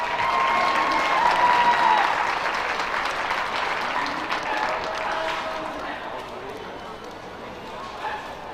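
Crowd applause at a county youth fair livestock show, a broad sustained clapping from the stands that slowly fades, with a voice talking over it.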